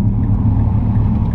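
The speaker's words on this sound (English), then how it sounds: "the unequal length headers that this car has, or unequal length manifold, exhaust manifold, give this car, a lot of people like to say a boxer rumble" A Mazdaspeed 3 four-cylinder with unequal length headers idles close by, a deep, steady, throbbing exhaust rumble with no other sound.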